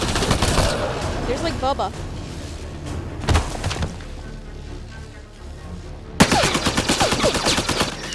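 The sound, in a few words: gunfire in video game Mass Effect Andromeda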